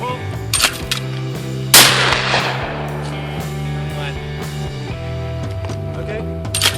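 A shotgun firing at thrown clay targets during a Thanksgiving outing: one sharp, loud blast with a decaying echo, heard over steady music and background noise.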